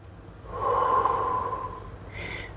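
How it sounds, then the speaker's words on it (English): A person breathes slowly during a yoga twist, one long audible breath through the nose lasting over a second, close and fairly soft, followed by a brief fainter exhale. "we're going to take a few rounds of breath here"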